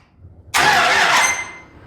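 A starter motor on a custom-built car cranking the engine in one short burst of about three-quarters of a second, starting abruptly after near silence, loud and close, then fading.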